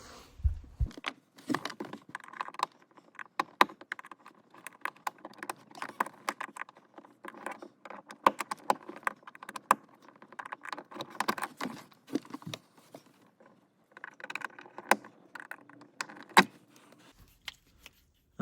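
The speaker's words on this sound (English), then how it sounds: "So now we'll just release the two clips with the flat bladed screwdriver." Trim clips on a BMW X1 being released with a flat-bladed screwdriver: sparse, close clicks and small plastic rattles come in irregular bursts between quiet gaps.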